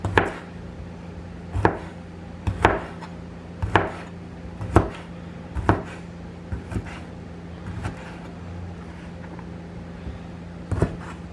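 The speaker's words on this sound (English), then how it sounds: "I'm just cutting everything up before I add everything else into the rice" A knife chopping vegetables for sofrito to go into Puerto Rican rice with pigeon peas, about a dozen sharp, evenly spaced knocks on a cutting board, close and clear over a steady low hum.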